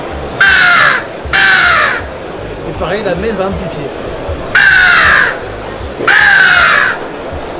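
A handmade bird-call lure imitates a crow's caw: four long, loud, drawn-out caws in two pairs, with a voice speaking quietly in the gap between them.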